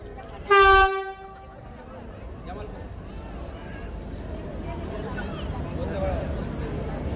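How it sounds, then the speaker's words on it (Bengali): A departing train at an Indian railway station gives one loud horn blast lasting under half a second, then a low rumble that builds steadily as it pulls away, with voices in the background. "ট্রেন ছেড়ে দিয়েছে।"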